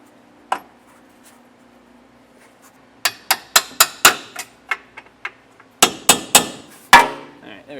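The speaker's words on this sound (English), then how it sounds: "I used a little punch in my hammer to push it through." A hammer strikes a metal punch to push it through a car's heat shield during a hitch install on a 2023 Hyundai: one sharp tap, a pause, then a rapid series of about a dozen close, ringing metallic blows.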